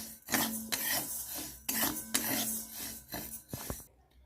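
Sago pearls are stirred and tossed in a hot kadai, making a series of quiet metallic scrapes and rattling strokes in an uneven rhythm, close up and without talk.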